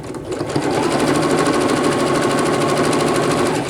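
A Brother PC 6000 sewing machine stitches through four folded fabric layers, its motor running in a steady, loud rapid needle rhythm that starts after a brief pause and continues unbroken to the end.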